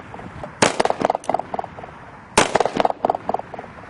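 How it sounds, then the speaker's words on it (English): Two sharp, loud blank shots from a Pietta Great Western 2 single-action revolver, about two seconds apart, each a broadband crack followed by a rattling string of echoes and clatter, with no talking. "this is the Pietta Great Western 2 firing"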